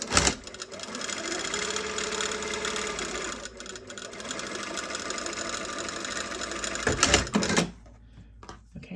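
A sewing machine stitches a seam in a fast, continuous mechanical whir close to the listener, then stops near the end with a few soft handling sounds.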